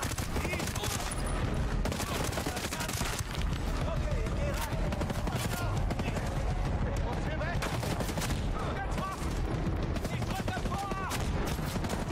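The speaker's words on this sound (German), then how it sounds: "wer schießt denn hier auf mich?" Gunfire in Ghost Recon Breakpoint rattles in dense, rapid bursts of close automatic shots that run almost nonstop at a loud, even level, with a player's voice talking under the shooting.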